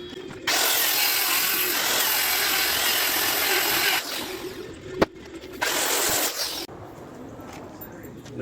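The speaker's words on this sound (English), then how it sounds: "We're going to go ahead and mark this and cut these in half down to 2 foot wide." Power saw cutting Marine Tech 3/4 inch plywood sheets in half to 2-foot widths for a dog ramp build, two long loud cutting passes separated by a brief pause and a sharp knock.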